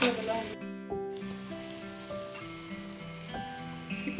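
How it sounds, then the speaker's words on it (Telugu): Cashew nuts sizzle in hot oil in a pan while cooking soya chunks biryani, a steady frying hiss running under prominent background music throughout. "జీడిపప్పు కూడా వేసుకుంటామండి. ఇంకా 10 నిమిషాలు ఇవి వేగన ఇవ్వాలండి."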